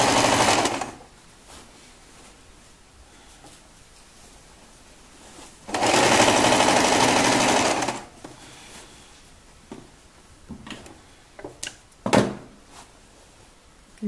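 A sewing machine stitches a straight seam on a child's gathered skirt in two bursts, one short at the start and one longer in the middle, and between them fabric rustles and light handling knocks sound.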